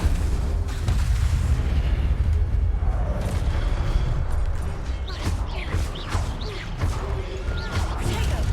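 The Incendio fire spell is cast during combat in Hogwarts Legacy, giving a roaring burst with crashing impacts and sustained fiery rumble, followed by sharper whooshing blasts, with no clear talk.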